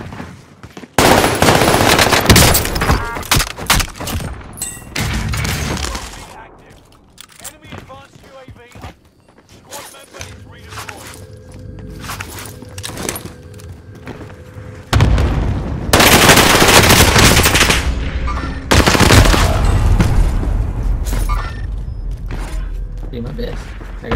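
Bursts of automatic gunfire from Call of Duty: Modern Warfare rattle loud and close in several dense volleys with brief pauses between them, while a player talks over the action.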